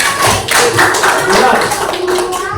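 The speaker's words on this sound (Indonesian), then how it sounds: "Tepuk tangan buat kelompok bebek." Students in a classroom applaud the duck group with dense, steady clapping at close range, with voices mixed in underneath.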